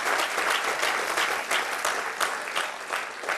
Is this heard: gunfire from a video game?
no